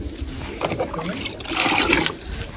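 Fresh tap water splashes and trickles over pigeons for a couple of seconds, a steady watery hiss that swells toward the end, with no talking over it.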